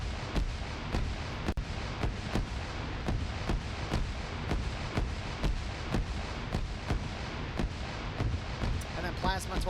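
Light HE artillery strikes in the sci-fi shooter Pay4Pain land as a long, steady barrage of booming impacts at a fairly even rhythm. Rumbling blasts keep coming over continuous background battle noise with no pause.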